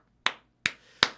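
Three separate sharp hand claps land at an even, slow pace, each one crisp and close with a short decay into near silence.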